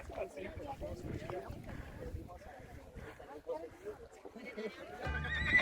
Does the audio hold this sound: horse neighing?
yes